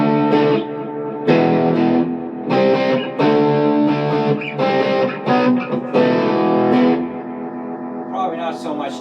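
Loud, gritty electric guitar through a Boss ME-80's Tube Screamer overdrive and a Hughes & Kettner Spirit of Vintage amp, playing chords and riffs with a warm, saturated tone and a touch of reverb.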